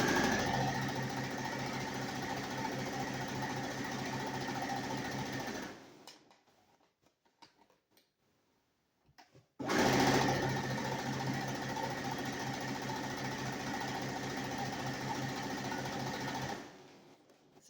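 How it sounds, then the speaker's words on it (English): A sewing machine stitching a quarter-inch quilt seam on charm squares runs in a fast, steady mechanical hum, loud and close for about six seconds, pauses in near silence with faint handling, then resumes for another stretch. "now we're going to sew 1/4 inch away from the other side of our drawn line."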